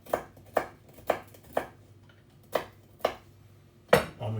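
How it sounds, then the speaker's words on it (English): Nuts chopped with a knife on a board for medieval Egyptian bread, seven distinct, evenly spaced knocks close up, each a crisp chop with a short ring, alone with no voices. "I'm going to get nut chopping."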